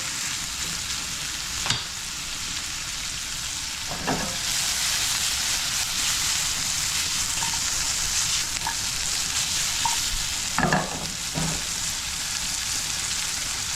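Leftover ham fries in a hot pan, giving a continuous bright sizzle with a few soft scrapes of stirring and no talking.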